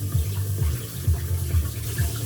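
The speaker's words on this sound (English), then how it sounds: "I'm gonna rinse it with hot water." Hot tap water runs into a pot to rinse cooked instant noodles, a steady splashing stream with rhythmic sloshing pulses, close and moderately loud.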